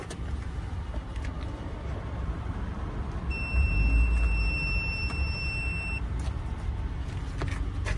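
Front parking sensor on a 2017 Mitsubishi Outlander sounds a continuous high electronic tone for about three seconds when someone walks in front, clear over a quiet background rumble.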